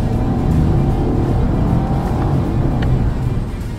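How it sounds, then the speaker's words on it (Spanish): A BMW 530i sedan at full throttle in Sport Plus mode with manual shifting, a loud, dense engine roar heard from inside, sustained and strong for a few seconds. "vamos a darle caja de manual y acelerador a fondo."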